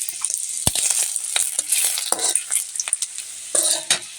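Garlic and bay leaves hit hot oil for egg curry, giving a loud, bright sizzle and spitting crackle with repeated sharp clinks and scrapes of a stirring spoon against the pan, close and with no speech.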